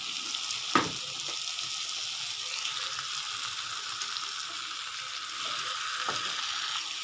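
Cut pieces of chapati fry in a hot pan with a continuous close sizzle and crackle. A couple of brief clinks from stirring break in, and nobody speaks.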